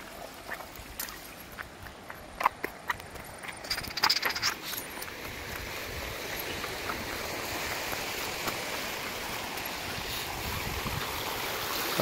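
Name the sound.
hidden waterfall flowing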